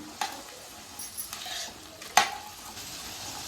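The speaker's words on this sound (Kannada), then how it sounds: "ಹಂಗೆ ಒಂದು ಎರಡು ನಿಮಿಷ ಚೆನ್ನಾಗಿ ಫ್ರೈ ಮಾಡೋಣ" Cooked chickpeas fried and stirred in a pan for kadle usli, a quiet sizzle with a few sharp scrapes and clinks of a spoon against the pan.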